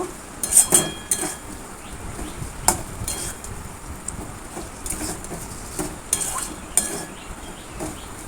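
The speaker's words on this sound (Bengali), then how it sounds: "পটলগুলো দিয়ে কিছুক্ষণ নাড়াচাড়া করে কষিয়ে নেব।" Pointed gourd (potol) being stirred and sautéed in a pan for a curry, with scattered light clinks and scrapes of a utensil against the pan over a low background hiss, no talking.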